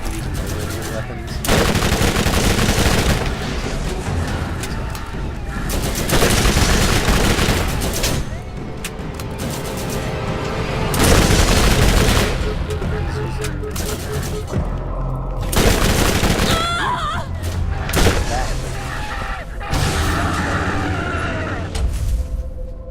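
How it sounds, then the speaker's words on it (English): Rapid laser weapon fire in the video game Borderlands, loud and sustained in repeated bursts with brief gaps, mixed with other game noise. "Using my laser weapons."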